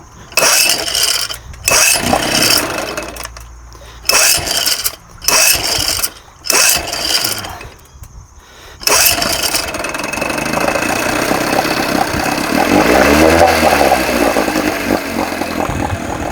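A 1980 Evinrude 4.5hp two-stroke outboard motor being pulled over in several loud rough bursts, then catching and settling into a steady, close, continuous idle.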